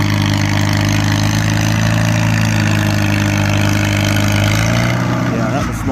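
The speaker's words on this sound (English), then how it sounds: "here comes the thunderous 350 again. That's the loudest tractor here for sure." Loud tractor engine, a model 350, running steadily at a plow day, a deep continuous rumble close by that shifts slightly near the end.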